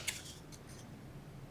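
Scissors cutting through a paper box template for a small coffee packet box, a brief crisp snip near the start followed by a couple of softer cuts, faint and close with no talking.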